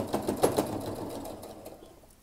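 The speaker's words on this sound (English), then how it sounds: "I'm just going around and sewing all of those gathers down" Sewing machine stitching gathered fabric down along a ruffle for a dress train, a short run of close, moderately loud mechanical stitching that gradually fades.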